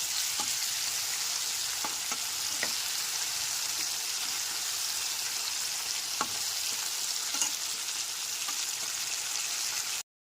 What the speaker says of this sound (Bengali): গ্যাসের ফ্লেমটা মিডিয়ামে রেখে আলু আর টমেটোটাকে ভালো করে মিশিয়ে নেব এক মিনিট ধরে